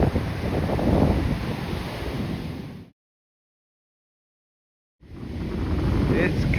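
Ocean waves rolling up the beach on a windy shore, a loud rushing wash with heavy wind buffeting the microphone, cut by a stretch of complete silence before the surf noise returns.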